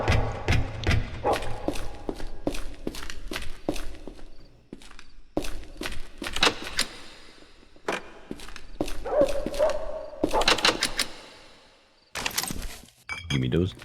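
Dogs in the video game Project Silverfish yap in short, sharp bursts amid footsteps, clinks and jangling, with a steady stream of busy game noise and brief pauses.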